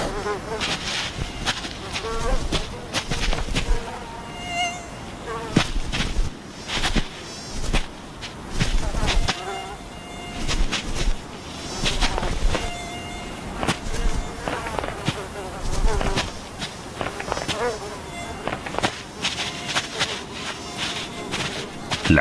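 A dense swarm of insects buzzes through an Alaskan summer among caribou herds, a continuous droning whine with louder swells as individuals pass near, and a narrating voice can be heard partway through.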